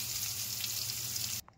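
Wood apple pulp and peanuts sizzling in a hot pan, making a steady, bright hiss that cuts off abruptly near the end, with no talking.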